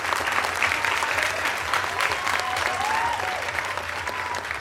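An audience at a hypnosis show at the Robeson County Fair in Lumberton, North Carolina claps steadily in dense, sustained applause, fairly close and continuous before easing slightly at the end.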